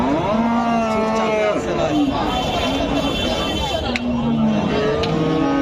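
Dairy cows and calves moo repeatedly, long drawn-out lowing calls from several animals close by, with people talking and chattering underneath.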